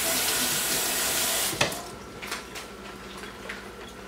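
A kitchen tap runs hard as a spatula is rinsed, a loud steady gush that stops abruptly with a clack, followed by quieter drips, a few soft knocks and faint residual sizzling.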